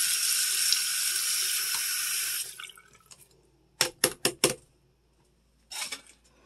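A tap runs full for a couple of seconds while cleaning brushes are rinsed, then stops, followed by a few sharp knocks and clatters as the brushes are tapped and set down.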